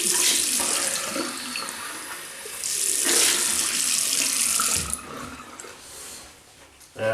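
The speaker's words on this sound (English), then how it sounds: "just rinse off" Tap water runs steadily into a sink for rinsing off after a shave with shaving soap, a continuous broadband splash with a brief break near the end, close and fairly loud with no talk.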